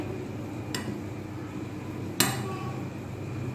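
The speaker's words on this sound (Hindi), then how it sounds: "इसको हम पहले मिक्स कर लेते हैं चम्मच की मदद से" A spoon stirs cardamom into milk powder in a bowl, two brief metallic clinks against the bowl, the second sharper, over a faint steady background hum.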